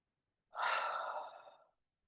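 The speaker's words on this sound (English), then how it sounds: "Take a deep breath, connecting with your heart, taking 3 deep breaths" A single deep breath let out in a long, airy exhale, close and soft, fading away over about a second with silence on either side.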